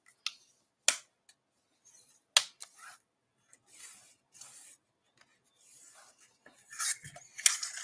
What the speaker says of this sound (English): we're just going to accordion fold it towards us, away from us, and then towards us.